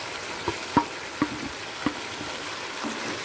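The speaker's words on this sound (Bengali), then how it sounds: "সবজিটা মশলার সাথে ভালো করে মিশিয়ে নেব।" Fried vegetables are stirred into a bubbling spice mixture for a vegetarian navaratna curry: a constant soft sizzle punctuated by four or five distinct utensil knocks against the pan.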